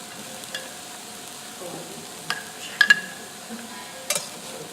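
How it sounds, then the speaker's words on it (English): Vegetable medley being stirred in a pan for a quiche, with a soft continuous sizzle and a few scattered light scrapes and clinks of a utensil against the cookware, close and fairly quiet. "And we're going to stir this into this."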